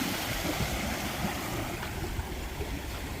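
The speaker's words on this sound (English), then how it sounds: "The water's definitely coming in." Ocean waves wash onto a beach on Catalina Island, a continuous loud rushing surf with some wind noise and no voices.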